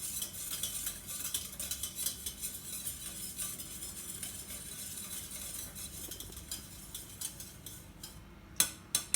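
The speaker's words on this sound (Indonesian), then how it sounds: "Kemudian kita aduk lagi." A spoon scrapes and clinks steadily in a bowl of homemade yogurt, a close, continuous stirring hiss with a couple of sharper taps near the end.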